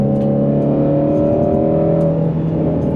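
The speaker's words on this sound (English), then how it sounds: "just listen to that engine" A Ford Mustang Shelby GT350R engine accelerating, a loud, close, sustained exhaust note with harmonics climbing steadily in pitch as revs build, heard alone without talk.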